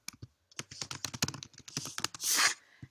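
Rapid clicks of keys on a computer keyboard while text is entered, a quick irregular run of close taps ending in a brief louder burst, with no voices.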